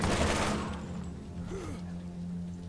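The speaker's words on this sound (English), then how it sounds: "This machine gun's amazing." Rapid machine gun fire in the video game Borderlands, loud bursts at the start that fade into a quieter, steady background din with no talking.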